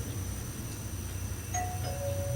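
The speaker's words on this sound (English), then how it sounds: "when one hears the doorbell ring, it's because there's never anyone there" A faint two-tone electronic chime sounds briefly over a low background hum, like a doorbell ringing somewhere nearby.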